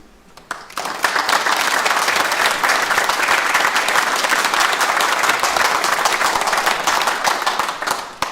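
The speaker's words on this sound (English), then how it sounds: "I'm sure you'll join me in giving them another huge round of applause" Large graduation ceremony audience gives a long, dense round of applause, steady and loud clapping from many hands with no voices over it.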